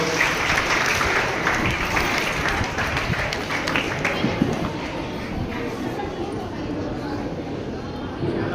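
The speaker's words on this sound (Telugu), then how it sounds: "ఒక చప్పట్లతో వారిని విలువలాడదాం" Audience applause at a Telugu community training camp for pregnant women, a broad steady wash of clapping running the whole way through at fairly even loudness and fading slightly toward the end.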